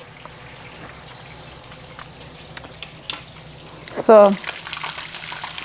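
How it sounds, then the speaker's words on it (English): Fish dropped into hot oil for Escovitch-style frying bursts into a loud, close sputtering hiss that tapers into a steady crackle; quiet background and a brief spoken word come before it. "I'm gonna place this fish right now in the oil guys and let it fry."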